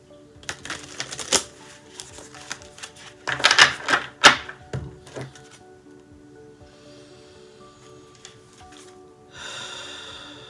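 An animal oracle card deck is shuffled by hand in quick riffling bursts with crisp card flicks and pauses between them, then a softer steady rustle at the end.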